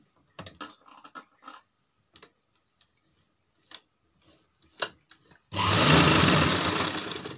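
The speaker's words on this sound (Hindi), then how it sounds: "यहाँ पर हमने डबल सिलाई डाल देनी है" A sewing machine stitching a double seam on a box-pleated frock, starting with a few light clicks and taps before the motor runs in a loud, close, steady whir.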